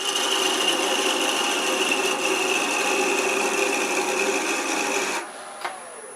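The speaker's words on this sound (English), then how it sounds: "I'm going to take this down with a parting tool down to less than 5/8 of an inch" A parting tool cuts into a small wooden Christmas ornament spinning on a lathe, taking it down to under 5/8 of an inch. A steady, close, rasping scrape holds for about five seconds, then stops, leaving a faint machine hum.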